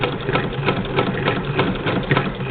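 A 1934 Singer 99-13 sewing machine worked by hand crank, stitching a quilt square; a steady, close mechanical whir with a quick, even ticking of stitches and no talking.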